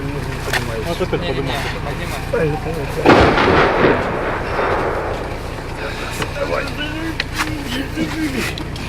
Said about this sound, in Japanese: 今大きな着弾音がありました